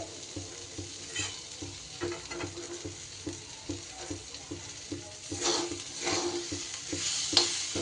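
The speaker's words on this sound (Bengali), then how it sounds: "এই মশলাগুলোর সাথে ডালটা দিয়ে একটু ভালো করে আমি কষিয়ে নেব গ্যাসটা অবশ্যই কমিয়ে নিয়ে কষাতে হবে" Lentils stirred with spices in a pan over a low gas flame, giving a continuous gentle sizzle broken by rhythmic scraping and tapping of the spoon, growing a little busier toward the end.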